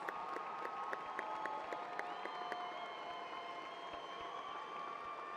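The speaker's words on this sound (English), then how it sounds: "Please join me in applauding these teachers." An audience at a commencement applauds graduating teachers, steady broad clapping heard somewhat distant and faint, with a few sharper individual claps and a sustained tonal hum underneath.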